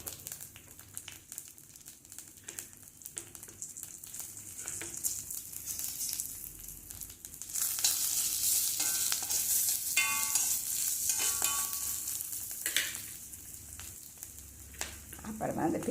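Chopped green pepper and ginger fry in hot oil with chillies and curry leaves, a soft crackling sizzle with stirring scrapes that swells louder and more intense halfway through.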